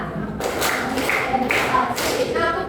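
A group of students in a classroom clap in a counting game, several broadband claps spread across the moment, close and moderately loud with background chatter.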